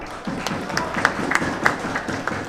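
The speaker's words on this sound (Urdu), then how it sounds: "ان کے لیے بھی تالیاں" An audience at a cricket league ceremony claps in a light, scattered patter during a speech, with irregular sharp hand claps close by.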